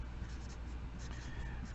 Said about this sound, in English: And let me write that word because that's a big word.